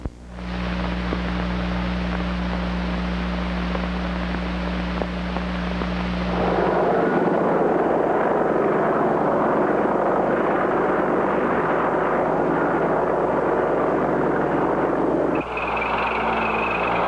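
A Boeing AH-64 advanced attack helicopter in flight gives a steady, loud, broadband roar with a deep low drone underneath. It holds constant throughout and shifts in tone partway through.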